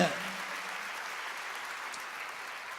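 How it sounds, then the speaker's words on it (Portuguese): A church congregation applauds together, a steady wash of clapping from many hands that holds evenly from start to finish at moderate distance. "Vamos aplaudir o Senhor"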